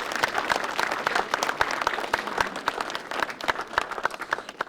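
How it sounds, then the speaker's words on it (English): Students, parents and guests applaud at a public school science fair, a lively burst of many distinct hand claps, close and fairly loud, rippling unevenly across the room. "Huge round of applause for my future scientists and engineers."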